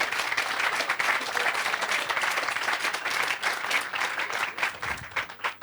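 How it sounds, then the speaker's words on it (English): A studio audience at a live current-affairs news broadcast gives a sustained round of applause, dense and steady clapping filling the room for several seconds before thinning out toward the end. "I think we're allowed a round of applause today for all the effort."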